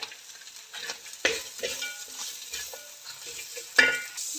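Sliced onion and carrot stir-fry in a pan for noodles, a low sizzle broken by two sharp clattering stirs and tosses. The sound is quiet and close, with no voices.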